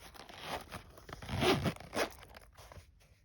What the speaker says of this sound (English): And then we'll zip it up.